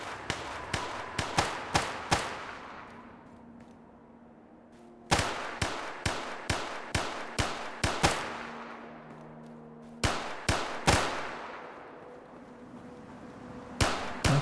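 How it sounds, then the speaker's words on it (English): Gunfire in the video game Fallout, sharp repeated shots in quick clusters with echoing decays, three separate volleys separated by brief pauses, loud and alone. "More gunfire, shit. This is a dangerous place."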